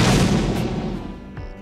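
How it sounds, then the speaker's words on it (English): A single loud, sharp car backfire bang, built for a film from a gunshot and a firecracker, fades into a long rumbling decay with a faint second pop near the end. "The filmmakers used a combination of a gunshot and a firecracker to create its backfiring noise"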